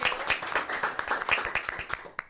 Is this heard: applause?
yes